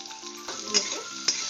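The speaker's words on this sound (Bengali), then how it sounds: "এখন আলুটা আমার খানিকটা ভাজা হয়ে গেছে" Potatoes frying with turmeric and salt in a pan, a soft close sizzle broken by two sharp spatula scrapes and knocks against the pan.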